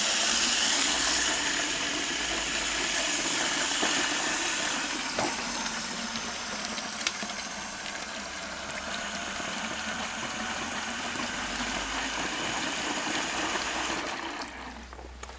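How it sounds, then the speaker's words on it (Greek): Water runs steadily into the reservoir of a homemade self-watering plant pot, a continuous close trickling wash that holds level for the whole stretch with no voices. "Τώρα θα γεμίσουμε τη δεξαμενή."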